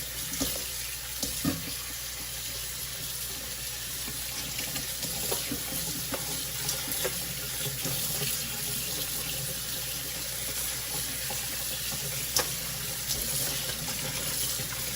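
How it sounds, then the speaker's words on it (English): Tap water runs steadily into a kitchen sink as sea moss is rinsed, a continuous splashing rush with occasional small clunks and shifts, close and fairly quiet, with no talking. "now I'm gonna go ahead and rinse the sea moss off now"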